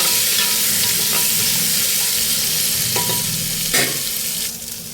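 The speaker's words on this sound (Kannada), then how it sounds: "ಮಿಕ್ಸ್ ಮಾಡ್ಕೊಳ್ಳೋಣ ಸೊ ಗೋಲ್ಡನ್ ಬ್ರೌನ್ ಆಗೋವರೆಗೂ ಫ್ರೈ ಮಾಡ್ಕೊಳ್ಳೋಣ" Green gram sabji frying in a pan, a strong steady sizzle with a few scraping stirs of a spoon, close and loud, easing slightly toward the end.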